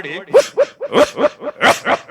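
A man imitates a dog barking with his voice, a rapid series of about eight loud, sharp woofs in a steady rhythm, delivered close up as part of a live comedy show, with no other sound alongside.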